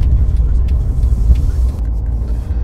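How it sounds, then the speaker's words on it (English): Inside a moving Mercedes E300 Hybrid, a steady low road rumble and engine hum fill the cabin while a voice talks over it. "You're in a Mercedes, by the way, a Mercedes E300 Hybrid"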